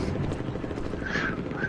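A helicopter in the Vietnam-era war game Hell Let Loose: Vietnam drones steadily with a continuous rotor rumble, unchanging in loudness throughout.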